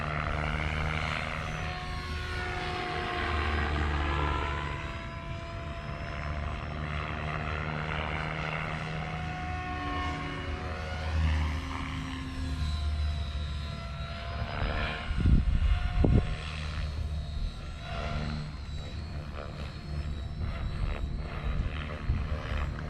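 A Hobby King A-1 Skyraider warbird RC model plane flies aerobatics over a small field at full throttle, its propeller engine droning steadily and rising and falling in pitch as it passes and turns at a distance.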